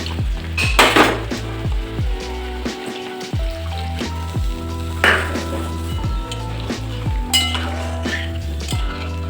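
Milk stirred into a pot of shukto, Bengali mixed-vegetable curry, with a metal spoon clinking and scraping against the pot in repeated sharp knocks over a soft background simmer, nothing spoken.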